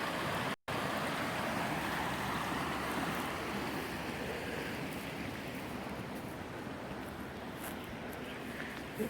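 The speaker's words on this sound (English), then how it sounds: "With a beautiful creek running right through here." Soft, continuous rush of a creek flowing through an old 1854 homestead, a faint steady watery hiss with no voices, lasting throughout.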